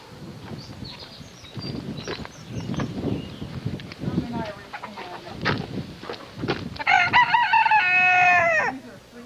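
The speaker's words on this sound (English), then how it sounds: "Free-range chickens." Free-range chickens in Kilronan village on Inishmore, clucking repeatedly and ending with a loud rooster crow, heard under people talking nearby.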